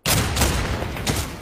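A short, loud burst of automatic gunfire in the VR shooter Pavlov, close and dense with a few distinct shot peaks over about a second and a half.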